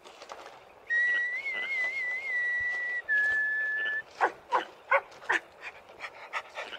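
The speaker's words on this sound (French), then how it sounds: "Mais les chiens, n'ayez pas peur, ils me connaissent." Dogs in the park of a château; a clear sustained whistle comes first, then a close run of short, sharp dog vocal bursts mixed with panting.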